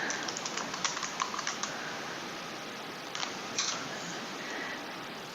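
Typing on a computer keyboard as a short note is entered, a quick run of light key clicks, then a pause and a few more taps over steady room hum.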